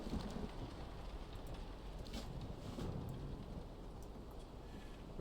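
A steady hiss of heavy rain with a low rumble of thunder rolling underneath, a continuous even storm wash with no talking.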